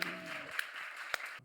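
A Korean church congregation giving a round of applause during a worship service, a brief steady patter of clapping heard at moderate distance that cuts off abruptly at the end.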